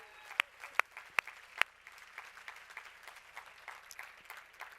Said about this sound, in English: I think we can all give them a round of applause.